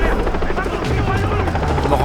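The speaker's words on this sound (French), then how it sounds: "Ok, l'hélico est juste en face de moi." A helicopter in the Far Cry 3 video game on Rook Island beats with a loud, rapid rotor chop close by. The sound holds steady throughout with a low engine drone underneath.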